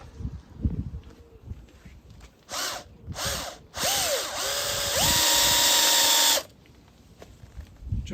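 A small centre drill drilling metal whines in short bursts, then runs longer with a rising, steady metallic pitch, over background shop noise and brief talk.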